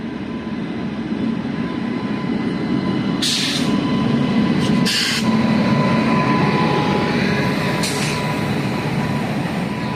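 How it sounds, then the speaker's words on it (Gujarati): A rail special train rumbles steadily into platform 2 at Lushala station, loud and close, with a low rolling drone and a few brief hissing bursts along the way. "તમે જોઈ રહ્યા છો પાટા અને ટ્રેન આવે છે"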